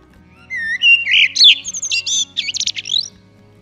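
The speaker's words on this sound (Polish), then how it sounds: "Kos to pięknie śpiewający ptak średniej wielkości" A common blackbird sings a single phrase of fluting, whistled notes that end in higher twittering, clear and fairly close against a quiet background.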